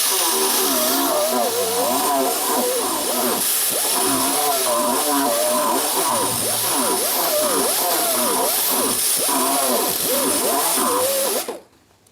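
A worn flap wheel on a power grinder grinds rust off a metal rear shackle part, making a loud, continuous whining drone whose pitch wavers as pressure changes, then cutting off abruptly at the end.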